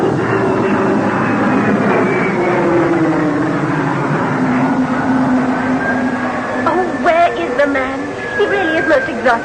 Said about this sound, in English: that's the plane for Tanzania standing on the tarmac now